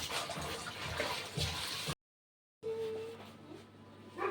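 Water runs steadily from a pipe at a home where laundry is being done, a continuous gurgling splash that stops briefly, then resumes more quietly with faint tonal sounds.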